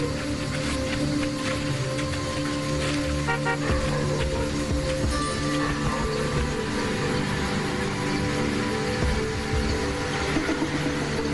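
A vehicle on a road in Gir Forest near lions, a steady low engine drone held at an even level for several seconds, with faint tonal hums layered over it.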